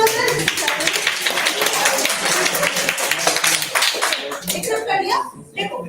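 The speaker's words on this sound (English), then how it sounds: "clap for yourself" Audience clapping at a corporate year-end tech celebration, fairly close and energetic, with voices talking and cheering over it before it thins out near the end.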